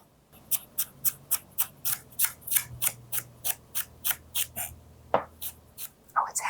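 Rapid, regular knife chops mincing celery on a cutting board, about a dozen crisp strikes in steady rhythm, close and alone.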